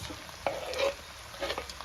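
Julienned onions sizzle in hot oil in a pan for liver kavurma, with a steady frying hiss and occasional stirring scrapes, close up and with no voices.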